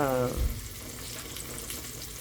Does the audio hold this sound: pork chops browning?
yes